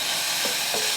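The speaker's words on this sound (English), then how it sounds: "I'm going to saute this for about 2 to 3 minutes until the onions are softened" Onions sauté in a pan with a continuous close hiss of sizzling oil, and a couple of soft stirring scrapes break through the sound.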